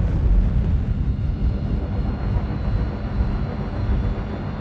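A spaceship engine throttling up in the Star Citizen video game produces a deep, continuous roaring rumble, heavy in the low end and holding steady at a fairly loud level, with no voices over it.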